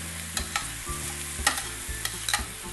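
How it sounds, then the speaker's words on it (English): Garlic sizzles and fries in a pan while being stirred, a continuous crackle broken by repeated scraping stirs, close by with no talk. "I'm keeping my garlic moving because I don't want it to burn"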